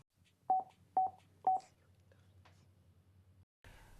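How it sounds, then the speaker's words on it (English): Three evenly spaced beep tones from a Cardo Freecom motorcycle intercom as the phone button is tapped for speed dial, crisp and close, followed by quiet background and a faint burst at the end. "tap the phone button 3 times to activate your speed dial"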